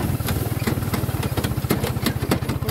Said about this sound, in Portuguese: A moto deu uma ressabiada aqui